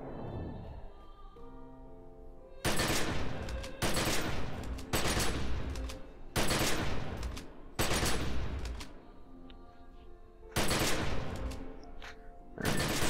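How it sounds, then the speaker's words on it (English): Rapid assault rifle gunfire from the online game The Secret World comes in five loud sustained bursts of about one to one and a half seconds each, separated by short quieter gaps with faint game ambience. "An assault rifle frenzy that deals a large amount of damage in a targeted area, consumes all assault rifle resources"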